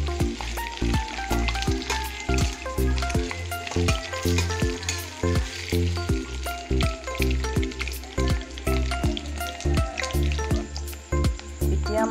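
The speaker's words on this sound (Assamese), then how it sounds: "অকণমান ফ্ৰাই কৰি ল'ম মই।" Mati dal and potatoes frying with pork in a pan, a steady loud sizzle with rhythmic stirring scrapes running throughout, close and continuous with no talk.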